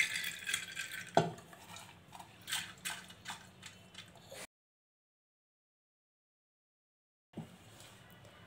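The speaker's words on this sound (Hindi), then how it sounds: "और कुकर के अंदर ये दाल डाल देंगे" Washed moong dal lentils rattle and clatter into a metal pressure cooker in uneven bursts, followed by a silent gap and one more clink.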